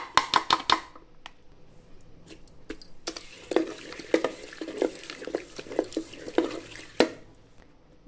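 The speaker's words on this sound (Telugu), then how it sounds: "ఇలా మెత్తగా రుబ్బుకోవాలి బెల్లం అంతా." A wooden dal masher pounds finely chopped jaggery smooth in a pot, giving a run of sharp knocks and wet squelching thuds at an uneven rhythm, close and fairly quiet, with a brief pause between bursts.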